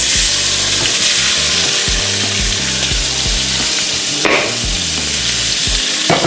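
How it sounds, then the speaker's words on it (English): Onions and bell pepper frying in hot oil in a pan for brown gravy alongside smothered pork chops, giving a loud, steady sizzle with occasional stirring and scraping throughout. "I'm finna get ready to put the onions and bell pepper in."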